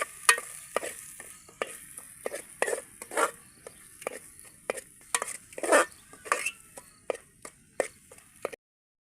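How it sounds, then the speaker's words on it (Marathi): Masala paste sautéed in a pan over a village wood-fired stove for a crab curry, with irregular scraping and clinking stirs over a soft sizzle, close and moderately quiet, ending abruptly in silence. "करू मांदा चांगलं परतून घेऊया"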